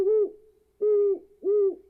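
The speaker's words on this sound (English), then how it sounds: "Sitting around a campfire and listening to the hooting of owls." An owl hoots three times in a steady rhythm at Pine Creek Gorge, each call a clear, hollow, sustained tone with short silent gaps between, close and alone.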